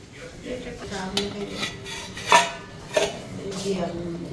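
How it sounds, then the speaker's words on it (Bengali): A lid set over a cooking pot on a gas stove clinks with a few short metallic knocks and scrapes, close and fairly quiet, against a low kitchen background. "এটা এখানে একটা ঢাকা দিলাম, আবার এটা দিয়ে ঢাকা দেওয়া থাকে।"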